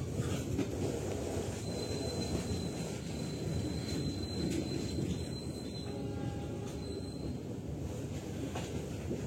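The Siliwangi passenger train on the Sukabumi–Bandung line rolls along the rails with a continuous heavy rumble and a thin, brief wheel squeal partway through, heard from on board without any talking.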